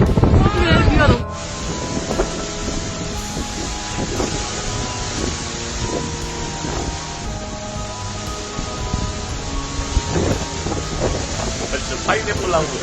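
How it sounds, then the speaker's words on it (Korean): Strong typhoon wind roars and buffets a close microphone as heavy rain pours down, a loud continuous rush with gusts and rattling, while people speak excitedly in Korean over it. "바람 진짜 많이 불고 비가 진짜 많이 온다."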